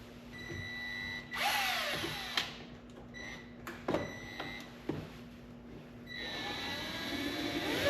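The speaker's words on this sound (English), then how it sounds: "we're going to drill through the fender with an 1/8 inch drill bit through the ring that is provided back there" A power drill with a 1/8 inch bit bores through the fender of a 2023 Can-Am Defender, whining up in a few short bursts with clicks and knocks between, close by over a steady background hum.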